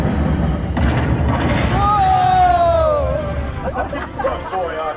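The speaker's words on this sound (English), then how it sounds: "firing up his weapons" A theme park ride's spaceship weapon effects play: a boom, a descending laser-like whine and further zapping blasts, over babbling riders and ride narration.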